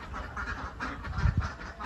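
Egg-laying ducks in a pen give a quick run of nasal quacks, close and moderately loud.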